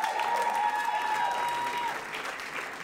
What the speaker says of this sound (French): Les amis, on peut les applaudir.